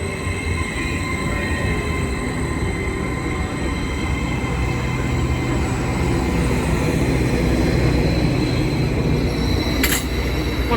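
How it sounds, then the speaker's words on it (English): A Greater Anglia Class 755 passenger train on the East Coast Main Line at Peterborough runs past as a steady, continuous rumble and rolling roar, with a brief high hiss near the end. "Also now passing is the 1151 Greater Anglia service from Peterborough to Ipswich."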